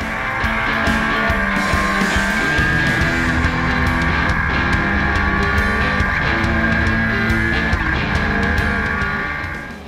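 A 1300cc race car engine screaming at high revs on the Pikes Peak course, a loud sustained high-pitched wail with shifting harmonics, close and continuous for the whole stretch.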